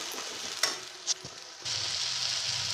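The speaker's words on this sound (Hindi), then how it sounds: "प्याज को अच्छे से डालिए भूनिए, जब तक ये लाल नहीं हो जाती तब तक हमें इसे भूनते रहना है" Onions frying in a pan for a methi, matar and malai sabzi, a steady close sizzle with a couple of brief stirring clatters, growing louder toward the end.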